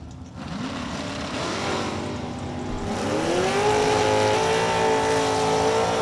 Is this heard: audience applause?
no